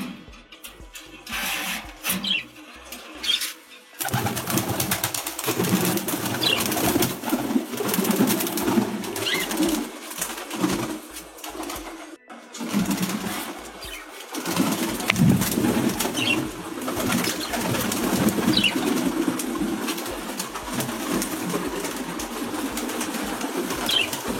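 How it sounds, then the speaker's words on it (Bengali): Pigeons are released from a loft. Wings flap in bursts and soft coos and rustling follow, close and fairly loud, with brief quiet gaps at the start and no talking. "আমি আমার কবুতরকে ছাড়ছি, এরা আস্তে আস্তে বের হবে"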